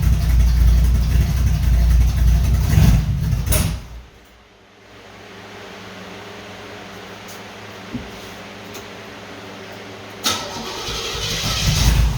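A 1978 Chevrolet Monte Carlo with a small-block 305 V8 cranking and catching on a cold start, a loud rough rumble that drops to a quieter idle, then revs again near the end.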